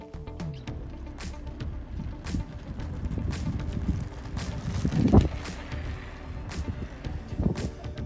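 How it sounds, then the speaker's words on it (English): Wind gusting around a parked camper van in the Zion area, a steady low rumble of buffeting and microphone wind noise, swelling to louder gusts around the middle and near the end. "The back of the camper van because it's so windy."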